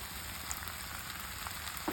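Prawns go into a pan of fried jackfruit that has been cooking on medium heat, giving a steady, soft sizzle and crackle close by with a few small pops.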